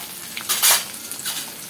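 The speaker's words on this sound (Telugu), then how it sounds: "ఇంకా అవి వేగుతూ ఉన్నప్పుడు కరివేపాకు అయితే వేసుకున్నాం కదా" Crackling sizzle of mustard seeds, cumin, dried red chillies, garlic and curry leaves frying in hot oil, with a burst of loud spattering midway, close up and without speech.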